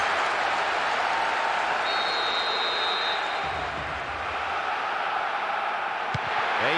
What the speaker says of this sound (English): The stadium is shaking because they're jumping up and down and making so much noise.